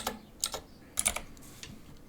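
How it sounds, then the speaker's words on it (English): Computer keyboard keys clack in small irregular bursts of a few strokes each, close and crisp, while editing a Canva template, with no voices. "This is not a good day for my typing"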